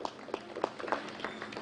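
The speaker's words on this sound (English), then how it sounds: "Give them a big clap." Brief burst of audience applause at a 2020 KCSE exam results announcement in Kenya, scattered claps from a gathered crowd lasting only a moment.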